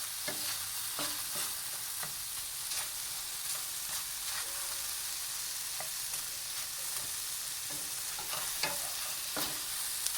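Moist mushrooms frying in a pan give a soft, continuous sizzle with scattered pops and crackles, fairly quiet and steady throughout.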